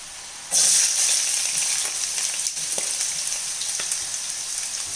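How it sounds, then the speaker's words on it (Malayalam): Chopped onions hit two spoons of hot oil in a pan for rava biryani, bursting into a loud, steady sizzle after a brief quiet start and crackling on alone with scattered pops. "അതിലേക്ക് നമുക്ക് അരിഞ്ഞ് വെച്ചിരിക്കുന്ന ഈ ഉള്ളി ഇട്ട് വഴറ്റിയെടുക്കാം."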